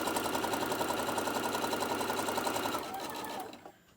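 Sewing machine running fast and continuous while stitching a seam on a small fabric chicken pincushion, close and clear, a rapid even whir that slows and stops near the end.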